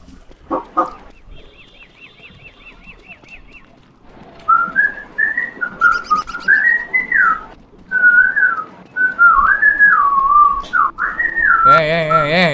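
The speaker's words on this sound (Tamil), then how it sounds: "அந்த விசில் அடிக்கிறது நிறுத்தம்" Whistled melody drifting in wavering pitches through a Don't Starve Together live stream, a few thin tones first, then a long loud tune running steadily for several seconds near the microphone.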